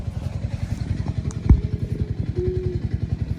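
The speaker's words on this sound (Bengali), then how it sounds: "এই যে ভাই আবার বাইকে যাচ্ছে আবার" A motorcycle putters past on a village path, its engine firing in a fast, even chug at close range, with a brief clatter partway through.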